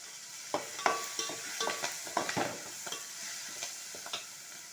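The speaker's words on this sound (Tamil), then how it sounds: "இதையும் நல்லா வதக்கி விட்டுப்போம் வெங்காயம் தக்காளிலாம் வதங்கிட்டு கருவேப்பிலை ரெண்டு கொத்து போட்டுக்கலாம்" Onions, tomatoes and curry leaves sautéing in a pan, a soft steady sizzle broken by frequent light scrapes and taps of a spoon stirring, fairly quiet and close.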